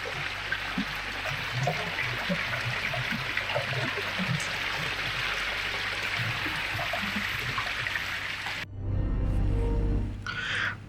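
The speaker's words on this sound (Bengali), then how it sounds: "ঝর্ণার শীতল জল ধরা বনফুল ভাসিয়ে নেমে আসছে কলকল ছলো ছলো শব্দে" A hill stream on a rocky forest trail at Sonaichari babbles steadily over stones, a close, continuous rush of water that runs unbroken before shifting to a louder, deeper wash near the end.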